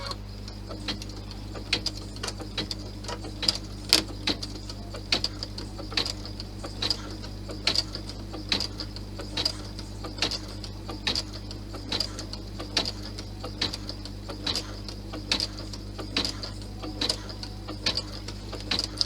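A sewing machine runs slowly, stitching the seams of a fabric Santa bag, ticking in a steady rhythmic series of mechanical clicks over a low constant motor hum.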